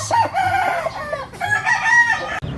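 Kanawayon-coloured chickens and their chicks clucking and calling loudly at close range, with a crowing-like call rising over the flock.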